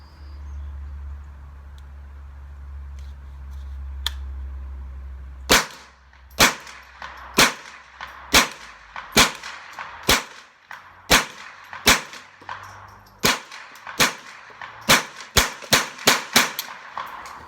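A Ruger 10/22 takedown rifle fires Remington Thunderbolt .22 ammunition outdoors, about twenty sharp, close cracks in a steady, unhurried sequence after a quiet start.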